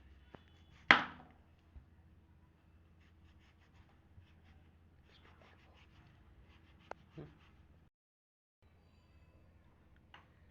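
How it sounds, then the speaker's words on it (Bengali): A medium-size green mango sliced with a knife, giving one sharp, close cutting snap followed by a few faint taps and scrapes over a quiet background. "একটি মাঝারি সাইজের আম স্লাইস করে কেটে নেব"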